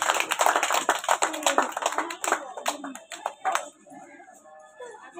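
Young children in a Class 1 classroom clap their hands for the class winners, a busy, uneven patter of many small claps that thins out toward the end, with voices chattering underneath.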